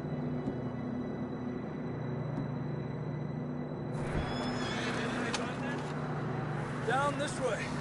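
A horse in Red Dead Redemption 2 whinnies briefly amid a low steady background hum, with some rustling and a faint shuffle near the end.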